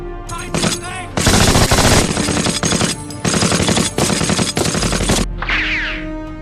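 A German machine gun nest firing in a war drama: loud, rapid bursts of automatic fire in several long volleys, ending with a brief whooshing sound.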